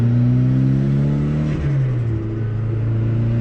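A Mitsubishi Evo 8 with a stage 5 setup drives along, its engine loud and close, droning steadily, then dipping and rising in pitch as it shifts and revs again.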